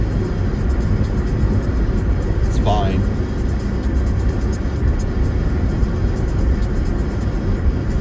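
A car engine strains to get up to speed, a continuous low droning rumble that stays even from start to finish, with a brief spoken remark partway through.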